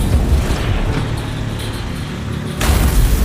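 A tank cannon fires with a loud, heavy boom that rolls on and then a second deep blast bursts out near the end, both close and overwhelming.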